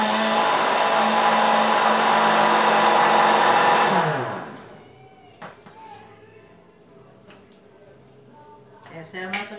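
An electric mixer whirs loudly and steadily, beating a creamy gelatin dessert mixture for about four seconds before it winds down and stops, leaving quiet kitchen clatter.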